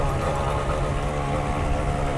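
A DT175 dirt bike engine holds high revs while climbing a severely rutted hill in the woods, a steady, loud drone with a constant low growl and no letup.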